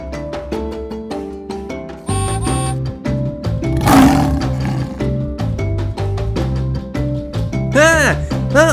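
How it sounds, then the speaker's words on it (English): One roaring lion bursts out midway over busy, bouncy background music with a cartoonish feel, in a children's Thomas and Friends toy train story. "Ah, that lion looks scary."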